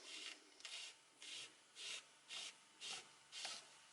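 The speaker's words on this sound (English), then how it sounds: "I soak the rag a little bit and I rub it on the belts" A rag soaked in protector spray is rubbed back and forth on electric skateboard belts in seven steady, even strokes, each a soft close scratchy swish, quiet with no talking.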